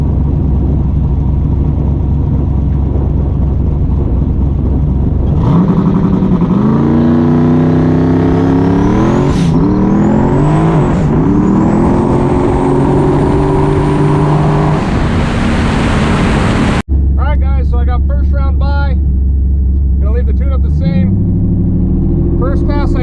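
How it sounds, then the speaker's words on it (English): A no-prep drag race car's engine revs hard during a burnout on a hard-compound tire, climbing through rising whines for several seconds, then cuts to a rough idle while a person talks over it. "I'm gonna do a burnout in the compound as well"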